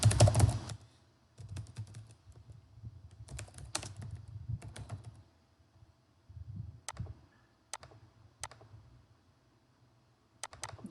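Typing on a computer keyboard while filling in form details: close, irregular bursts of soft key clicks with pauses between them, ending in a few sharper isolated taps, with no talking.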